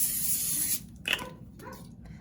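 Butter-flavor cooking spray hissing onto potatoes for a grill packet, one short continuous spray burst at the start followed by faint clicks and handling noises.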